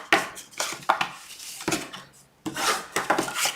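Folded paper for a pen presentation box is burnished by hand, making several close, dry rubbing strokes in uneven bursts separated by short pauses.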